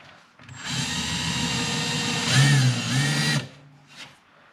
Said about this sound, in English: I'm going to actually drill a countersink in the bench top